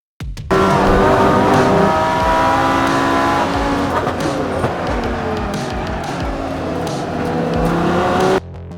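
A Lamborghini GT3 race car lapping the Brands Hatch circuit, its engine droning loud and steady with shifting revs throughout, close and onboard, with no talk over it.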